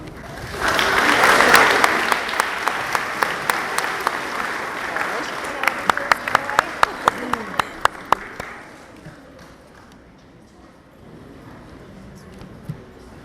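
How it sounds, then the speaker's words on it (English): Audience applause at a 7th grade academic awards ceremony at a school. Dense clapping swells at the start, then thins into scattered individual claps before fading to near quiet. "Can we have another round of applause for all of our award recipients and students of the month?"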